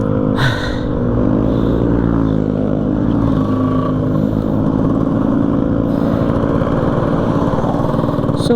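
A Suzuki Raider 150 motorcycle runs without its muffler, giving a loud raw engine drone with rising and falling revs as it rides, close to the listener.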